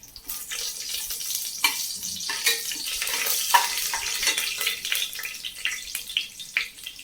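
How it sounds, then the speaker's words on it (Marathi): Whole spices frying in hot oil for mutton yakhni pulao, a steady bright sizzle with occasional clinks and scrapes of stirring, close and fairly loud throughout. "खडा मसाला आपल्याला चांगला व्यवस्थित भाजून घ्यायचा आहे तेलावर."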